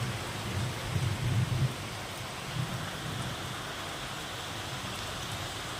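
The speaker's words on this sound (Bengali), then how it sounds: "কাদের বাড়ির সব জায়গায় কি বৃষ্টি হচ্ছে" Steady morning rain hisses evenly throughout, fairly faint and constant, with a soft low rumble early on and no voices.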